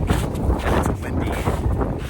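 Strong gusting wind buffets the microphone on a snowy, north-facing Vermont mountain trail with a couple of feet of snow, a steady loud low roar that persists through the whole moment without pause.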